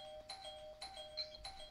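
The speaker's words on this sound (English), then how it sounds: "I'm gonna ring your doorbell." A doorbell rings in the Roblox game Ro-Citizens at an apartment door, three bright electronic chimes repeating at a steady pace over low background hiss.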